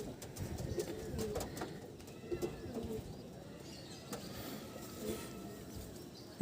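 Pigeons kept in a loft coo softly and repeatedly in the background, with faint rustling and scattered small clicks throughout, and a brief louder knock at the very end.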